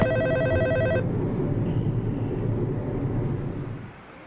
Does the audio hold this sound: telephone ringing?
yes